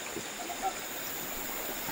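Steady broadband rush of a creek or small river flowing continuously, fairly close and even in level, with a faint voice briefly underneath.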